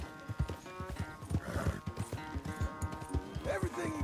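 Horse hooves clip-clop at a steady walking rhythm while a rider circles a farm corral in Red Dead Redemption 2, close and clear under music, with a brief whinny and a voice talking over it.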